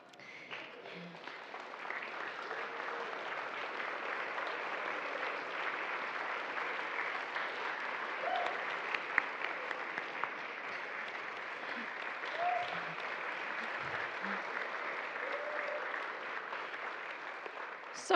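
Sustained applause from a church congregation fills the space steadily for about eighteen seconds, an even, dense clatter of many hands without a break.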